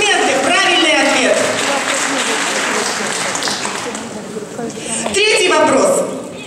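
Villagers at a Women's Day quiz event in Koshki applaud a correct answer, a modest burst of clapping running under a host's talk and fading before voices return.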